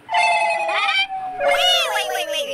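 A phone rings at night with a warbling electronic ringtone in two long loud bursts, close and clear, with no talking over it.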